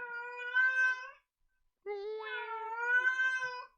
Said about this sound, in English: My neighbor's cat does that.